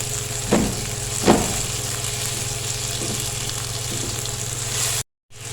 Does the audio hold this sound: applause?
no